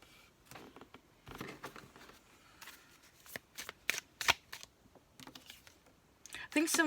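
Playing cards handled and shuffled before an outcome card is drawn, with rapid irregular flicks and riffles close to the microphone, growing busier toward the end.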